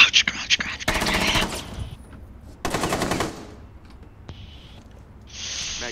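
Bursts of M249 machine gun fire in the tactical shooter Rainbow Six Siege, two long rapid volleys separated by pauses, with faint whispered voices and quieter game sounds between them.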